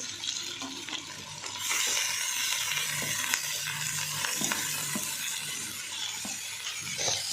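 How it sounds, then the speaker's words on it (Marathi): Chopped onion and tomato sizzle in hot oil in a pan while being stirred, a steady bright hiss running throughout with occasional scraping stir sounds, close and fairly loud, no talking. "टमाटर टाकून घेतल्यानंतर चांगलं परतून घ्यायचं आहे"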